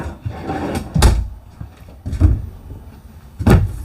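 Bedroom drawers in a Keystone Outback 328RL RV are worked close by, producing three sharp wooden slides and thumps about a second apart, with quiet handling noise between them.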